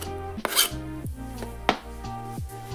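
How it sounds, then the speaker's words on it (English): Knife chopping kimchi into bite-sized pieces on a cutting board, a few distinct close cuts spaced unevenly, with no talking. "I'm just gonna cut the kimchi into kind of more manageable bite-sized bits"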